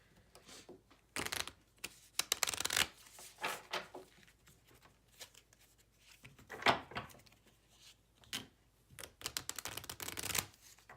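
Tarot cards are shuffled by hand in a quiet room, irregular soft riffles and slaps repeating over several seconds, close and intimate with brief pauses.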